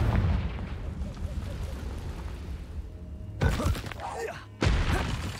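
A Confringo fire spell from Hogwarts Legacy erupts in two sharp, booming blasts with a crackling burst, the first after a stretch of low rumbling game ambience and the second close behind.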